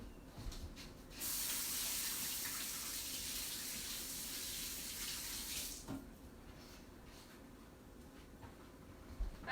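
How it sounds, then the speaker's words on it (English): A kitchen tap runs in a steady hissing stream for several seconds while hands are washed before handling an oven mitt, close and even, then the water is shut off, leaving faint handling noises. "I'm going to wash off my hands so I don't get the mitt all dirty."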